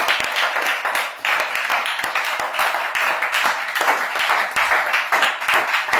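A church congregation at a morning prayer in Korhogo claps steadily and loudly, a dense, continuous round of applause with a brief dip partway through.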